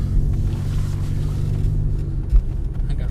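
A 2005 GM car with a 4T65-E automatic transmission pulls away from a stop sign on a cold-morning test drive, its engine a steady, close low rumble inside the cabin with a brief thump near the end and no voices.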